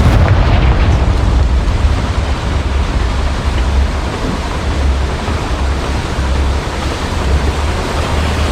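A Confringo blast spell in Hogwarts Legacy sets off a dense, roaring explosion rumble, a loud sustained wash of low booming noise that holds steady without pause.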